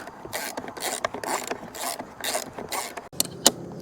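Ratchet cranking down awning bracket bolts on a 2023 Toyota Tundra, a steady run of close, fast clicking strokes in repeated bursts, ending with a couple of sharp metallic taps.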